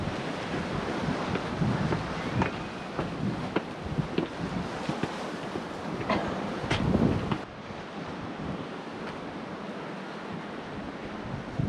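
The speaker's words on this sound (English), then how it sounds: "The wind's picked up." Gusty wind buffets the microphone beside a harbour with waves washing in underneath, a constant rough roar with a few brief knocks and surges, no voices.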